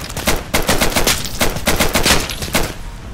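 Dense rapid-fire shooting from a shooting mod in the Hollow Knight game, loud and continuous with closely spaced repeating shots across the whole stretch.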